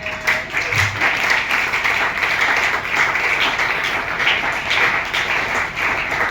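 A church congregation applauds during a thanksgiving service, with rhythmic massed clapping and some voices blending in, steady and fairly loud throughout.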